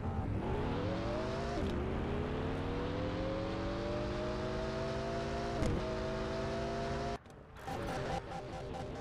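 Koenigsegg Agera engine in Car Parking Multiplayer winds up loud and steady through the gears during a 402 m drag run, with a rising harmonic whine, brief gear-change dips and a sharp cut near the end; no talk.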